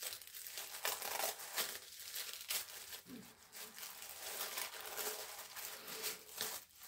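Tissue paper crinkling and rustling in quick, irregular bursts at close range, with soft crumpling textures continuing through most of the moment and no talk over it.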